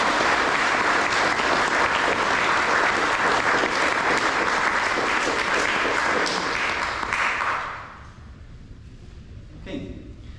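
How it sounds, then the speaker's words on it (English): A parish audience at a St Vitus town hall meeting applauds the church choir: dense, steady clapping for about eight seconds that cuts off abruptly, leaving a quiet room with a faint stir near the end. "So let's give a round of applause for them."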